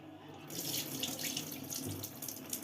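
Water drains off soaked moong dal for a raw mango chutney in a steady, close rushing pour that lasts throughout.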